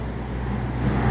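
A container truck rolls past on a Sumatran highway with a low, steady engine rumble and road noise that swells slightly as it nears, with no voices over it.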